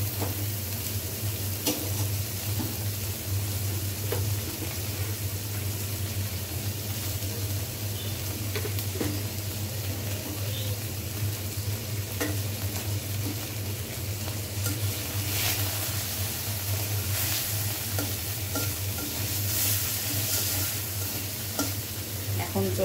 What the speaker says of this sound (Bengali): এগুলো এখন একটু ভেজে নিব, হালকা একটু তেল দিব